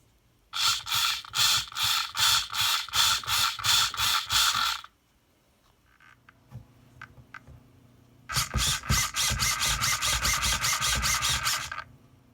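An RC car servo on a Tamiya TT02 sits on a workbench and sweeps rapidly left and right, giving two loud bursts of rhythmic whirring, grinding gear buzz with a few faint clicks between them.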